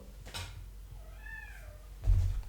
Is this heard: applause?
no